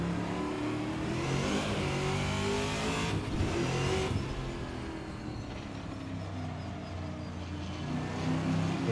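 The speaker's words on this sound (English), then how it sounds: "the transmission whining away as we go into these corners" A Trans Am race car in Assetto Corsa drives steadily through corners, its engine droning loud and continuous with a high transmission whine riding on top and brief tire scrubbing around the middle.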